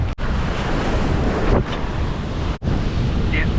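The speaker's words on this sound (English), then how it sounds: "That way we can watch the waves as well." Ocean waves break on a rocky shore, a loud steady roar of surf with heavy wind buffeting the microphone and brief dropouts, no talk.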